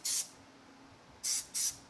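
Three short hissing bursts of Plasti Dip from an aerosol can sprayed onto car wheels, separated by quiet gaps, the middle and last bursts close together.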